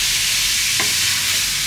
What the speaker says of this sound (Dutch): Ik ben lekker aan het koken. Het wordt dus spaghetti bolognese.